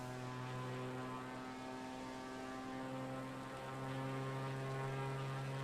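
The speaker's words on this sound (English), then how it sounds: "Alright, engine's back on." Aircraft engine drones steadily in a flight video game, a constant tonal hum with strong harmonics holding at an even, moderate level with no talk over it.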